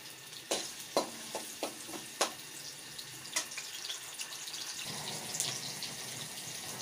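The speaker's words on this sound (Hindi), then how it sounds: "ऑयल गरम हो चुका है। अब इसमें मैं ये प्याज ऐड कर रही हूँ।" Chopped onions dropped into hot oil in a pan for a home-style chicken karahi, hissing and sizzling steadily with a few sharp clatters of spoon or pan at first, then a continuous close, fairly quiet crackle.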